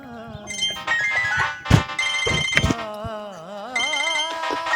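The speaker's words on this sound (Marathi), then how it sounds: "पोरीचा फोन आला." A mobile phone ringtone plays a melodic, warbling electronic tune at moderate volume, with a few knocks and thumps around it.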